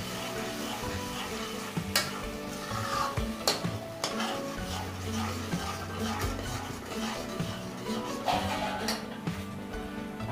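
A spoon stirs fish and potato curry masala in a pan, scraping and lightly clinking at a steady pace with a faint sizzle underneath and quiet background music.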